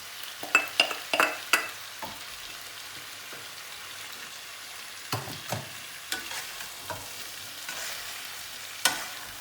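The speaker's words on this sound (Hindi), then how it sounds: "ये मेरी कैबेज है जो अब मैं इसमें डालने लगी हूँ" Shredded cabbage goes into a hot pan with a light frying hiss underneath, and clusters of sharp spatula scrapes and clatters come in bursts near the start, middle and end.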